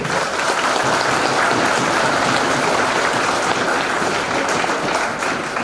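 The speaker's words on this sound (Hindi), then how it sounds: "आप सब लोग पूरी जेएनसी टीम के लिए जोरदार ताली बजाओ, जितनी जोर से बजा सकते हो" A celebration audience claps loudly for the JNC team, a dense, continuous wash of applause at steady volume throughout with no talking.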